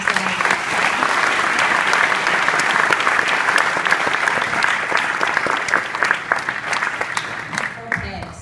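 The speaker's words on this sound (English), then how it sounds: "Let's give another round of applause for Sam." Sustained applause from a large university lecture audience after a speech, dense and loud, holding steady for several seconds before thinning out at the end.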